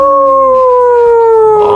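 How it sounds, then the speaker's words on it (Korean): A dog gives a long, loud, close howl with a steady gliding pitch that slowly falls, heard alone without talk. "지난주에는 멍멍하더니 이번엔 또 하울링을 하시네요"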